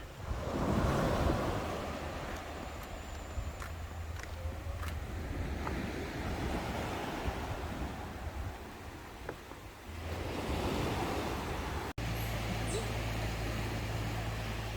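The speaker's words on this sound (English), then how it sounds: "This is Top Tim Beach, or Ao Top Tim." Surf rolls in steadily at Top Tim Beach on Koh Samet island, Thailand, a continuous wash of breaking waves with wind buffeting the microphone, swelling louder near the start and again toward the end.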